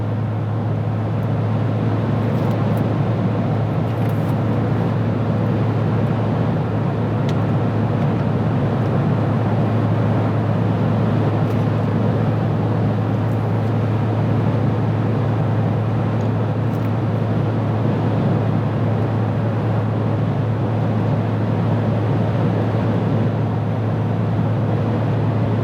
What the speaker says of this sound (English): There's a lot of wind noise.